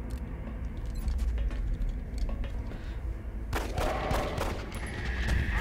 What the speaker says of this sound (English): Peg him with a laser pistol